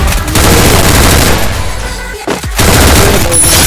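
Video game combat with rapid bursts of automatic gunfire and grenade blasts, loud and dense, with a brief dip in the middle before the shooting resumes.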